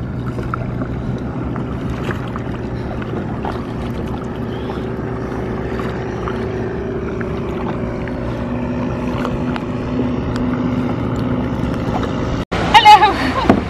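Boats approach across open sea near the Phi Phi Islands, Thailand, a low steady engine rumble and water wash heard from a floating position with wind buffeting the microphone, ending in a brief sharp splash.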